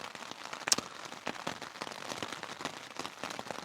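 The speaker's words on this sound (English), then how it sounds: "Yes, it's raining." Morning rain on a tent during a Pacific Crest Trail hike in Washington, a close, irregular patter of drops with a few sharper taps over a soft steady hiss.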